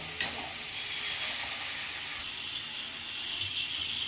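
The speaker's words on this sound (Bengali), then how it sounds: "দিয়ে এবারে ভালো করে একটু নেড়ে কষিয়ে নেব।" Poppy seed, mustard and black pepper paste stir-fried with taro stolons, a soft even sizzle with light stirring scrapes, moderately quiet and steady throughout, with no talking.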